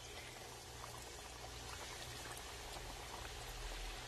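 Chicken pieces frying in hot oil for crispy KFC-style fried chicken, a steady dense sizzle and bubbling that holds loud and even throughout, with no talking.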